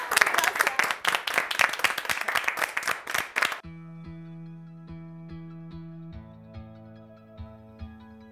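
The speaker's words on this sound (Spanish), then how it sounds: "Te doy un aplauso para ustedes" Loud, dense applause from an audience for about three and a half seconds, then it cuts off abruptly and soft music takes over.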